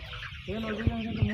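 A chicken gives a couple of short, close clucks over a low background murmur at a poultry sale.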